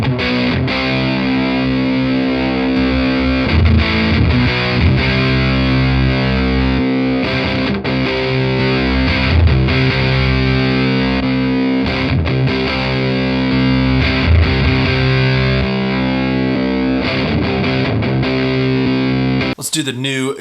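Electric guitar driven through a Vital Distortion overdrive pedal, playing loud, saturated chords and riffs steadily for about twenty seconds, with a sudden bright burst at the very end.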